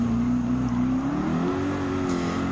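Race cars in Gran Turismo 7 during a GTWS Manufacturers Cup online race, with a steady loud engine drone and a slowly rising pitch as the cars accelerate, plus a faint tire note. No one talks.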